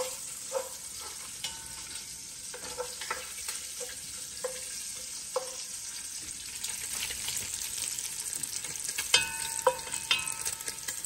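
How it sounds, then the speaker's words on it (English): Bacon fries in a pan with a soft, steady sizzle and scattered crackles and pops, fairly quiet and close, with occasional clinks and a brief burst of stronger activity near the end; no speech. "Fry, bacon, fry."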